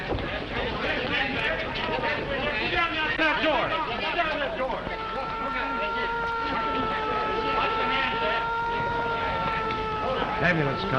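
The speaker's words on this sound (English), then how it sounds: "Ambulance, Cullen." A wailing ambulance siren rises and falls, joined partway through by a second steadier tone, with voices and commotion underneath.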